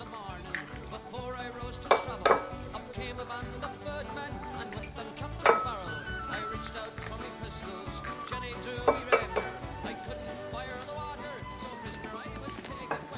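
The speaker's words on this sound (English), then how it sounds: "I'll just whisk it together and it'll be happy." Cake batter ingredients whisked together in a bowl, soft rhythmic scraping and clinking of a whisk against the bowl, with occasional sharper metallic knocks, quiet and close.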